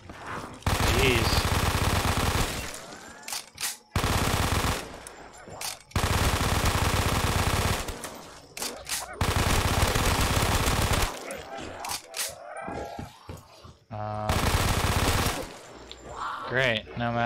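Bursts of automatic gunfire in Black Ops 3 custom zombies on the Town Reimagined map, loud and close, coming in several long sustained volleys separated by short pauses.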